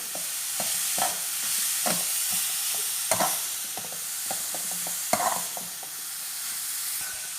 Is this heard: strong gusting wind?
no